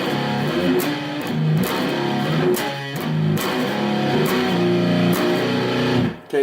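Electric guitar playing the intro riff of a song on the top four strings, a loud, sustained, slightly distorted repeating figure of ringing notes with a few slides, played alone without talk.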